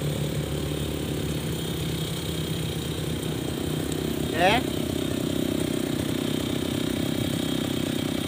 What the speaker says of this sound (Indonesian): Saya matikan mesin dulu.